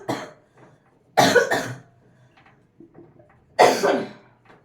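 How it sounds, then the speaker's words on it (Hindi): Two loud bursts of coughing from a teacher during a physics lesson, each a short harsh cluster of coughs close to the microphone, separated by quiet moments with faint murmuring. "बहुत खांसी आ रही है।"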